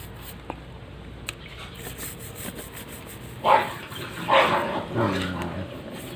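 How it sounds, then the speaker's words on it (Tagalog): Dogs fight, snarling and barking in short, rough bursts in the background, growing louder in the second half over a steady low outdoor hum. "May nag-aaway pa sa background ko ng mga aso."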